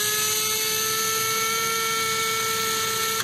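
A small power driver unscrewing a bolt from the rear lower link of a CEN Racing F450 RC truck, a steady high-pitched whine held close and constant for several seconds without speech.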